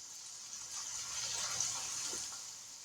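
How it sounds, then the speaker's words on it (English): Milk poured from a can into a cooking pan for a Doritos casserole, a soft, steady trickle and splash lasting a few seconds, faint and alone. "we're going to pour a half a cup or a half a can of milk."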